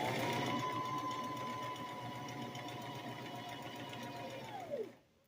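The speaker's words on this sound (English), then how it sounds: "I'm just going to sew" A sewing machine runs a continuous straight stitch on a diaper cover, a close, even motor whir with rapid needle patter, slowing and stopping near the end.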